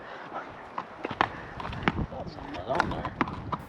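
Hooves of pack horses shifting and stepping on the ground as they are loaded for a back country pack trip, irregular close thuds and clops scattered over a few seconds, with people talking over them.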